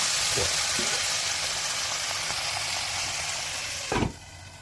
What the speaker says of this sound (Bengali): এখন আমি একটু জল দিয়ে মরিচটা কষিয়ে নেব, মশলাটা কষিয়ে নেব